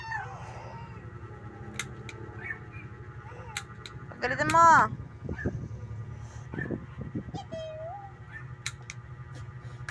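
Cats meow and yowl in a brief fight, a loud caterwauling burst in the middle followed by scattered cries, with people talking quietly around it.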